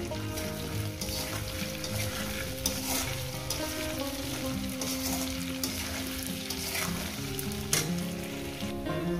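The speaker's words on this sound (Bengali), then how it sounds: "কচুটা আমার এখনো ঠিকঠাক ভাজা হয়নি। আমি আরো 5-6 মিনিট ভেজে নেব।" Pieces of taro sizzle steadily in a hot pan while a utensil stirs and scrapes them at intervals, the crackling close and even with no voices.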